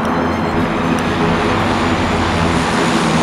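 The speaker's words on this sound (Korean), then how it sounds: "아, 비행기다" A propeller airplane drones overhead in Battlegrounds, a loud, steady engine roar filling the whole stretch without any talk.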